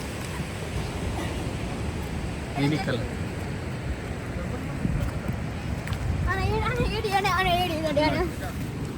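Sea waves roll onto the seashore in a constant rumbling surf with some wind, while people talk briefly over the steady wash.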